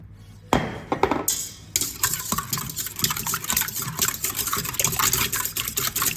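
Three eggs with lemon juice and a pinch of salt beaten in a bowl for lemon cake batter, a steady wet clattering whisk that starts after a brief pause and carries on loud and close.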